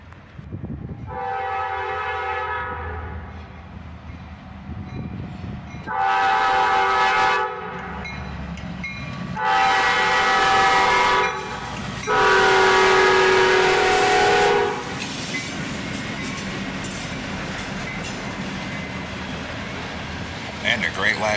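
A freight train led by an ES40DC, with a Dash 8 and an SD50-3 behind, sounds four loud, separate horn blasts at close range, and then its heavy rumble carries on alone.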